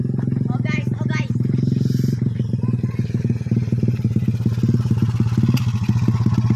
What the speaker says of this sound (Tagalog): Ay, yung motor.